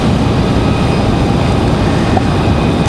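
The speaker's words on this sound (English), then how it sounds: "So the American 737 out of here." American Airlines Boeing 737-800 jet departing the airport, a loud, steady broadband roar of engines at takeoff power that holds constant across the moment.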